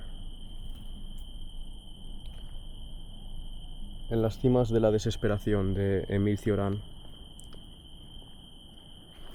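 Steady, high-pitched cricket chirping at dusk runs continuously in the background, with a person speaking briefly over it partway through.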